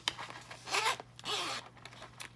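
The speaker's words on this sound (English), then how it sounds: "Then I have my usual zipper pouch," Zipper on a handmade journal zipper pouch being pulled in two quick close strokes, with small handling clicks and rustles around them in a quiet room.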